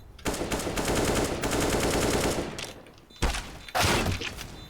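An AK rifle fires in long automatic bursts in a Source engine shooter, a loud, close rattle lasting over two seconds, followed after a short pause by two shorter, sharp bursts.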